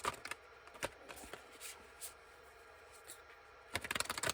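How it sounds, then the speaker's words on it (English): Cards riffled in a ruffle shuffle for a spirit reading, quick papery bursts of flutter at the start and a longer cascading riffle near the end, close and fairly quiet, with soft handling taps between. "Let's ruffle shuffle and see what we get for the other spirit read today."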